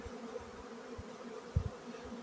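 Honeybees in a hive during a winter inspection, giving a faint, steady low buzz with a few soft knocks and bumps near the end.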